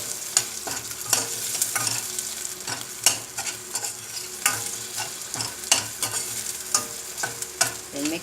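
A spatula stirs sliced green pepper, already part red, in a hot frying pan for sweet and sour fish, with repeated sharp scrapes and clacks over a steady close sizzle and no voices.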